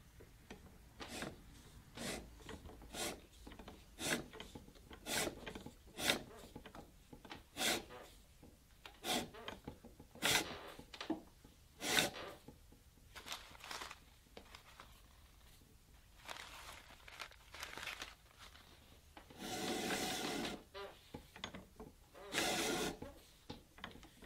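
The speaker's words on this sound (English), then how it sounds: "I've got a CS Osborne leather splitter, and it does an excellent job also." A C.S. Osborne leather splitter works a leather belt blank, making repeated short rasping pulls at a loose rhythm, close and moderately quiet, with one longer drawn-out scrape near the end.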